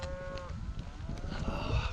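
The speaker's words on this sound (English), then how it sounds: "Oh, there's the cows, I can hear them." Brown cows low on a Highland hillside near a remote hotel, a couple of drawn-out moos rising over steady outdoor wind, moderately distant and clear.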